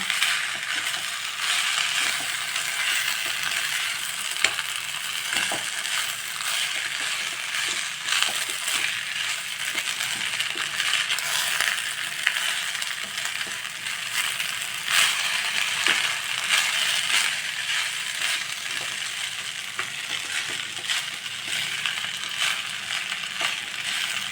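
Capsicum rice is stirred in a pan, a steady close scraping and crackling sizzle with frequent small clicks of the spoon, continuous throughout with no speech.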